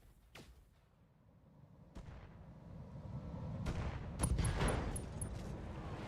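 Mech weapons firing in a BattleTech game running the BTA mod, a sharp distant shot followed by several loud, booming impacts and a cluster of rapid bursts near the end, over a steady low rumble.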